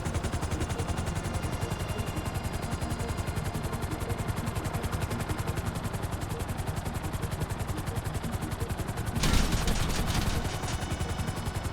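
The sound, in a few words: gunfire in video game Grand Theft Auto V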